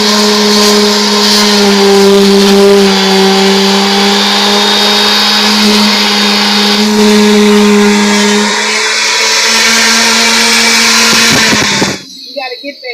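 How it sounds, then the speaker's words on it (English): A power sander works a plastic car bumper during a DIY front-end repair, giving a loud, steady whine that runs almost without a break and cuts off sharply near the end. "where we have to start sanding this down so that we can refill it with the plastic"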